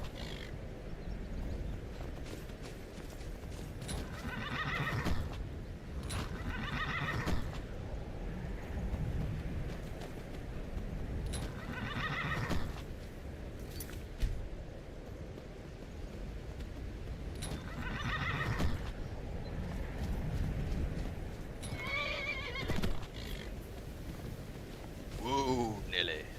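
Several loud horse neighs and whinnies in the video game Skyrim repeat every few seconds during taming over a continuous rumbling, windy background, with occasional hoof clops.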